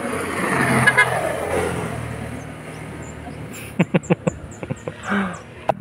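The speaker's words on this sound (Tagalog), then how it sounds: "Busina." Car horn honking during a motorcycle endurance ride, a series of short, sharp toots in quick succession after a stretch of road noise and engine rumble.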